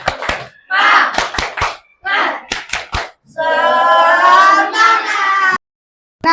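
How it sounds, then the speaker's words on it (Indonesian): A primary school class does the 'tepuk semangat' spirit clap, with rhythmic bursts of sharp hand claps alternating with children chanting together, loud and close. "Yuk, kita tepuk semangat dulu, ya."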